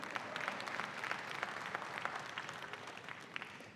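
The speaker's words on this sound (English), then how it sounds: "Go ahead and clap for that." Steady applause from an audience at a senior awards ceremony, a dense wash of many hands clapping at moderate distance, continuing evenly without voices.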